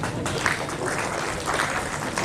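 A crowd of children keeps clapping at a community talent award ceremony, with a continuous, moderately loud patter of applause that holds steady throughout.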